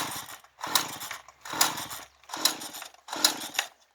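Five brisk pull-start attempts on a small engine set at quarter throttle, each a rough, raspy burst of cranking noise about a second long, separated by short pauses, close by with no talking.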